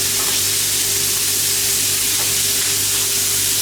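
Meat for stock sears in a very hot pan, giving a loud, steady, dense sizzle that stays even throughout with no talking.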